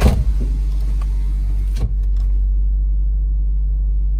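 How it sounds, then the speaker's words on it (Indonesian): A Nissan Grand Livina's idling engine, heard inside the cabin: a low, steady hum, muffled and constant, with a brief clunk early on and otherwise quiet. "ini sudah kita hidupkan mesin mobilnya. Kita coba dengar di dalam kabin"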